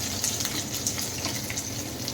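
Potato pieces frying in oil in a home kitchen pan for a no-onion, no-garlic dahi aloo curry give a steady, moderately quiet sizzle with faint crackles, heard alone without talk.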